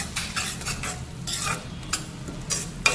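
Grated paneer being stirred in a pan of oil for kaju gotalo, a spoon scraping in repeated strokes over a soft steady sizzle, close and fairly quiet, with no voices.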